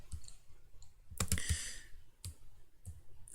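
A computer mouse clicks several times at close range while working in FreeCAD, the crisp clicks coming in small clusters with short quiet gaps between them.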